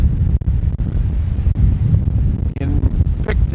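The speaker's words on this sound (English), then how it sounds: "it's windy here today" Strong wind gusts buffet the microphone beside open water on a cloudy day in Picton, Prince Edward County, with whitecaps rolling in; the roar is loud and continuous, with breaking waves beneath.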